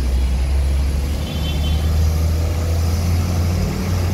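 A Pelangi intercity bus on the Aceh–Bandung route speeds along the road, a loud, steady low engine drone and road rumble close by, with no talk.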